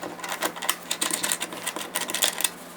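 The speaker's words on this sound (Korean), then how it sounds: "기본적으로 일단 요 볼트 두 개를 풀 겁니다." Wrench work loosening two bolts on a new electric chainsaw with a 16-inch guide bar gives a close, rapid run of light metallic clicks and ticks throughout.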